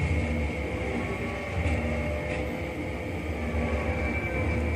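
A train rolls along the track toward the Sky Tower, giving a continuous low rumble with a steady mid-pitched whine and a couple of faint brief swells, no voices.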